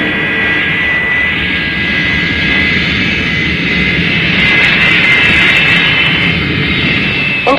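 A Stratajet airliner from the 1967 Captain Scarlet and the Mysterons TV series departs with a loud, sustained jet roar and high whine that swells slightly toward the end, heard alone.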